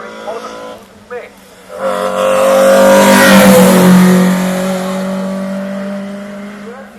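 A Group A 2.3 litre BMW E30 M3 rally car at the Shelsley Walsh hillclimb revs up and drives past, its engine building to a loud rasping peak before easing off, with a voice talking over it.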